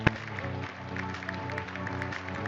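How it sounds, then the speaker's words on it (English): Audience applause at a Ubisoft Forward showcase, a steady wash of clapping from a crowd at moderate distance, continuous with no breaks. "The crowd beams and claps up toward the stage."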